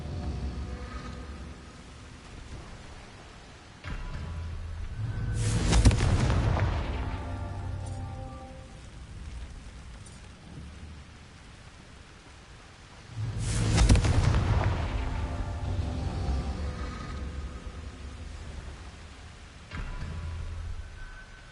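Confringo fire spell in Hogwarts Legacy, two loud booming explosions several seconds apart, each with a sharp crack and a rumbling decay over low background noise.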